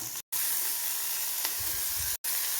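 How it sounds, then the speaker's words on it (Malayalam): Beans dropped straight into hot oil for a beans and carrot stir-fry: a loud, continuous close-up sizzle and hiss, broken by two brief silent gaps, with low bubbling underneath and no voices. "ഞാനിന്ന് എളുപ്പത്തിൽ നേരിട്ട് എണ്ണയ്ക്കകത്തേക്ക് ഇടുവാണ്"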